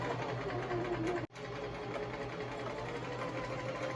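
A sewing machine stitches a Halloween costume in a fast, steady whirring run. The motor cuts out briefly for a moment, then resumes its close, continuous buzz.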